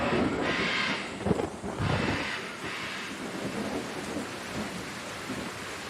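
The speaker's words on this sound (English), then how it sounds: "I hear thunder in the background." Steady heavy rain hisses throughout in the Amazon rainforest while low thunder rumbles and rolls in the distance, swelling briefly before fading back under the downpour.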